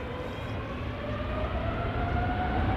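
KLM Boeing 777-300ER jet departing Amsterdam Schiphol, a loud continuous engine roar with a whining tonal drone that swells slightly as the aircraft passes close by, no voices.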